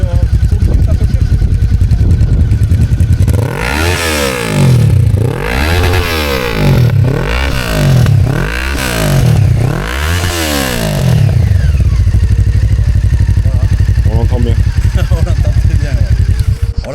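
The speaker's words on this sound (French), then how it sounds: "on sait que c'est un bicylindre, on sait que ça fait un peu de bruit, mais ça fait pas qu'un peu en fait." A Honda CB500 PC26 twin-cylinder motorcycle idles loud and close at about 1000 rpm with a throbbing rumble, broken in the middle by several quick rising-and-falling revs before settling back to idle.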